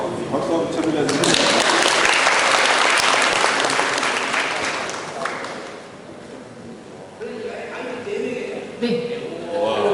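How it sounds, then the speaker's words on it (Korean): An audience at a school visit breaks into loud, sustained clapping for several seconds, close and dense, then it thins out as voices talk over the fading applause. "어우야, 박수 한번 쳐드려야 되는데."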